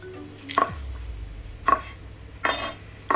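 Several separate knife chops through mushrooms on a cutting board, crisp close knocks spaced about a second apart, with a soft scrape between the first strokes and no voices.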